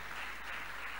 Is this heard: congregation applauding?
yes